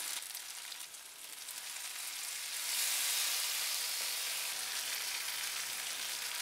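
Ghee sizzles and fries steadily in a pan for masoor dal tadka, a close, bright crackling hiss that grows a little louder partway through and continues with no voices.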